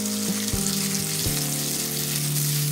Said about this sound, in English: We're going to add our cubanelle pepper. And also our garlic. And we're just going to let that saute for a couple minutes.